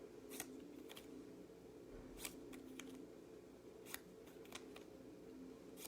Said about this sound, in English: I'm just going to alternate cutting diagonally, one way and then the other, like this